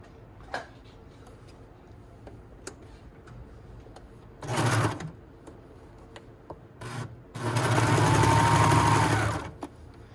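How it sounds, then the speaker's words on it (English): A serger sews a sleeve band in two close bursts, one short and one longer steady whir, separated by quiet handling sounds and fabric rustle, with no talking. "you might want to do this and lock the blade so that nothing's getting cut off as you're serging"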